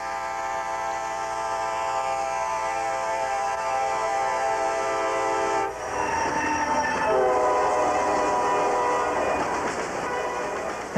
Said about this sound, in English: The coal gets here by train.